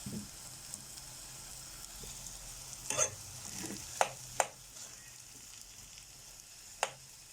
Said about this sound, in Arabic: معانا نص كيلو مفروم. هننزل كده البصل بتاعنا بالشكل ده